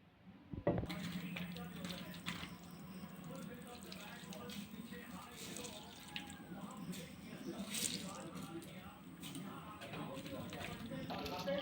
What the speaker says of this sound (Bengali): এর মধ্যে জল দিয়ে দেবো দিয়ে পাউরুটিটা ভালো করে ধুয়ে দেবো